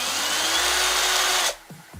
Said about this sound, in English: the power button, and it's actually sensitive to the pressure from your hand,